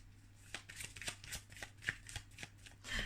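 Tarot cards being shuffled close up, a quick run of soft papery riffles and flicks repeating over a few seconds with no voice.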